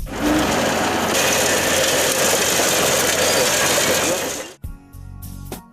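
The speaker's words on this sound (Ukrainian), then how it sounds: "А також у більш сучасний за допомогою трактора та спеціального посадочного обладнання." A tractor fitted with special tree-planting equipment runs with a loud, steady mechanical clatter and whirring for about four and a half seconds. It then cuts off abruptly, leaving faint thuds and quieter noise.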